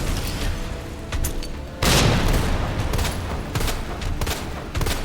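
Frag grenades explode in the Resident Evil 2 video game: a loud, heavy blast lands partway through and leaves a rumbling roar, with sharp gunfire-like pops and bursts before and after it.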